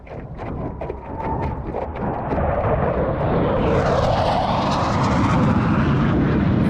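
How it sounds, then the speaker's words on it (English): An F-15 military jet passes over a Florida spring in North Florida, a loud, swelling roar that builds over several seconds and holds as it flies overhead, with no talking. "There are several military bases in North Florida, and F-15s fly this area regularly."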